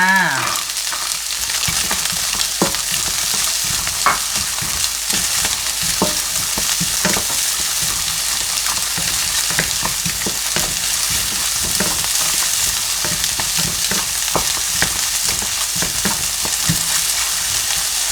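Onion and carrot stir-fried in a hot wok for Chinese sausage fried rice: a loud, steady sizzle with frequent scraping and clacking of a spatula, no talk.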